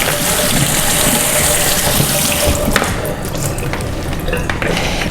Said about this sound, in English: So next I'm gonna wash up my potatoes.